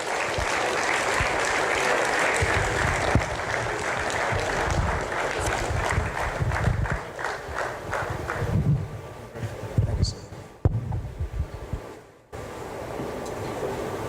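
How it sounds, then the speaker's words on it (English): An audience at a book launch applauds to welcome General Lucky Irabor, former Chief of Defence Staff. The clapping is dense and sustained, then thins into scattered claps and fades out before briefly swelling again at the end. "for the biggest applause of the afternoon, let us welcome General Lucky Irabor"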